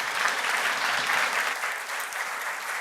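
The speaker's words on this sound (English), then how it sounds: "Let's applause Lars." Audience at a process mining summer school applauding a presenter after a talk, a dense, steady wash of many hands clapping that continues evenly throughout.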